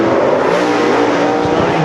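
Loud, close roar of a USMTS race car at full throttle on a dirt oval, engine note steady and sustained through the whole stretch with no break.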